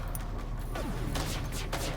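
Missile volleys fired at an enemy ship's shields in FTL: Faster Than Light, heard as a few soft whooshing launches and thumps over a constant droning ship hum, fairly faint and spaced apart.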